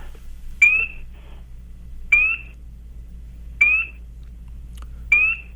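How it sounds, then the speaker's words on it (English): A spring peeper tree frog calls at night, giving four clear, rising high-pitched peeps spaced about a second and a half apart over a low steady background hum. "It's a spring peeper."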